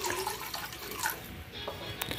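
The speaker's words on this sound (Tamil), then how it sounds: "இப்போ உங்களுக்கு வேணுங்கிற அளவு தண்ணி வந்து ஆட் பண்ணிக்கோங்க." Water pours into a cooking pot for homemade vegetable soup, a short splashing, trickling flow heard close up with no voices.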